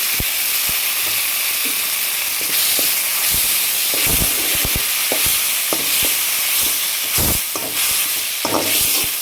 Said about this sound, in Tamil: இதோட நல்லா வதங்கட்டும்